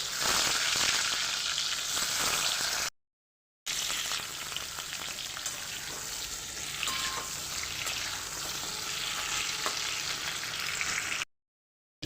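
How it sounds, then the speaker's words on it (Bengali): Pointed gourd (potol) fries in hot mustard oil with a dense, steady sizzle and crackle throughout, close and fairly loud, broken by two brief silent gaps. "তেলটা হয়ে গেছে গরম এবার আমি পটলগুলো দিয়ে পটলগুলো ভেজে নেব"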